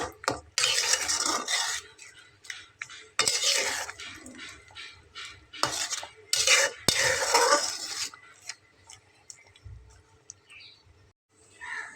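Water spinach and lentils being stirred in a pan, with bursts of spatula scraping against the metal coming in uneven clusters, close and fairly loud, separated by quieter gaps and faint background hiss.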